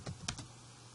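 A few quick keystrokes tap on a computer keyboard, faint and close against a steady background hum, with no voices.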